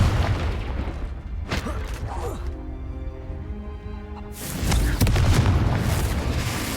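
A Confringo spell explosion in the Hogwarts Legacy video game brings loud booming blasts with a rumbling tail, then a quieter ringing stretch before another heavy burst; talk is also heard.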